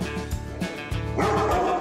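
A sheep guard dog working out in the field gives a few short, loud woofs with some yips and whimpers, repeating in quick bursts close by.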